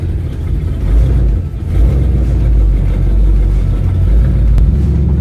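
A 1971 Chevelle V8 rumbles loudly and steadily as it is driven, its deep engine note swelling with a brief dip in throttle around the midpoint before pulling strongly again, without any talking.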